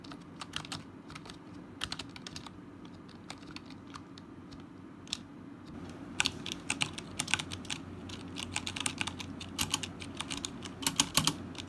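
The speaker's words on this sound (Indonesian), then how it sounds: "bunyi typing dengan in-game lain tau" Typing on an ASUS TUF Gaming K1 keyboard fills the clip with rapid, close clicks and clacks that come in quick irregular bursts and grow denser and louder in the second half, with no voices.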